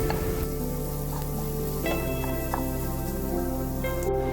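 Chopped onions sauté in a hot pan for a curry, a dense continuous sizzle and crackle at steady loudness with a faint background hum and occasional small clicks.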